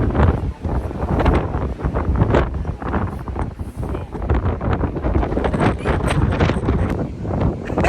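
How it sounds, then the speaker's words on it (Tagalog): Strong, cold gusts in Australia buffet the microphone in a loud, continuous roaring rumble, with a short dip in intensity before it picks up again. "Ang hangin."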